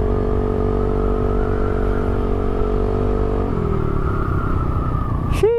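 A Rusi Rapid motorcycle fitted with a new exhaust and silencer runs loud and close on a test ride, with a steady droning engine tone that shifts and drops partway through, ending in a brief rising whine.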